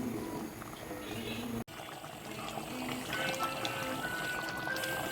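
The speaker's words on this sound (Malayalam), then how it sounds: "അത്രയും വെളിച്ചെണ്ണയും കൂടെ ഒഴിച്ചു കൊടുത്ത് സ്റ്റൗ ഓഫാക്കാം." Coconut oil is poured into a pot of fish curry on a stove, a steady liquid trickle blending with the simmer and kitchen hiss for several seconds after a brief cut.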